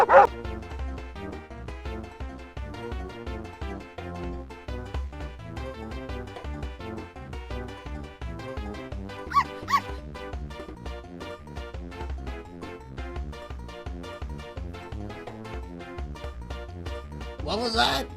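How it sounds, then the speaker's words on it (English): A dog barks and yips over and over in quick succession, with whimpering notes mixed in, fairly loud and close and continuing throughout. "This hover dog is very friendly."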